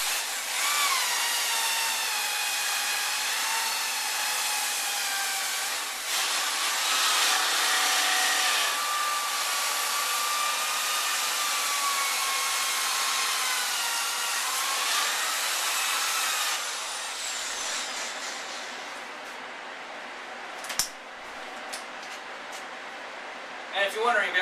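A small drum sander grinds against wood in a workshop with overhead dust extraction, a loud, steady whine with shifting tones that runs for about seventeen seconds, then drops away to a quieter hum and a few knocks.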